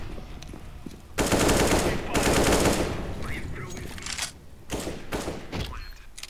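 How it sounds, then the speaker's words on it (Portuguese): Rapid automatic gunfire from a shooter game played as a PC performance test, loud sustained bursts of machine-gun fire with short pauses between volleys and a few softer thuds. "o cara tá só atirando no outro ali"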